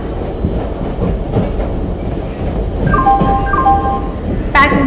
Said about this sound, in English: Train number 12655, Passenger Express, is arriving at platform number